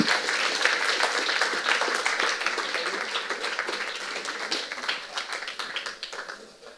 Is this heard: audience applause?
yes